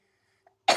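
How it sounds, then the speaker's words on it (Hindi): A woman lets out a single short, sharp cough close to the microphone after a moment of near silence. "थोड़ा खांसी का प्रॉब्लम हो रहा है मुझे।"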